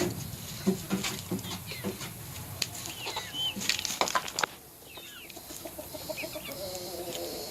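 Chickens clucking and a large rooster calling in a backyard flock with chicks, the hens' short clucks repeating near the microphone alongside a louder crowing call and pecking patter.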